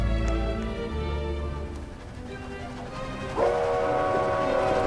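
A train runs in the video game Dead Rails, giving a sustained rumbling drive with tonal, whistle-like harmonics that dip slightly and then swell louder near the end, steady and close throughout.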